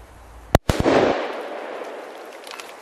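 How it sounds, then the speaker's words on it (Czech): A firecracker tied under a stick on a tree bursts outdoors with a sharp crack followed quickly by two more loud bangs, then a short rush of debris and echo fading into quiet. "Odpalovačem jsem připravil tenhle tu petardu s tím klackem a můžeme jít odpalovat."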